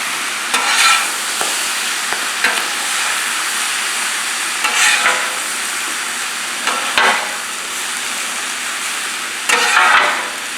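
Shrimp, vegetables and meat sizzle on a Pit Boss griddle for fajitas, a steady close frying hiss with periodic louder bursts as the food is stirred and turned, no voices.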